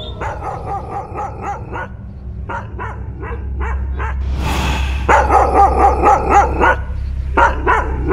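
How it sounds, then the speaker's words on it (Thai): A pet dog barks repeatedly at night in rural farmland, sharp close barks in quick bursts with short pauses, growing louder and more insistent over a low steady background hum. "บุงหมาที่เลี้ยงไว้มันก็เห่า"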